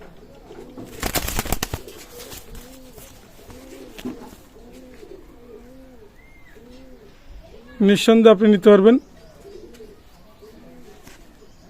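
Pet pigeons, including a red-necked Golalal pigeon, coo in a steady repeating rhythm nearby, with someone talking over them, a burst of rustling and a loud harmonic call partway through.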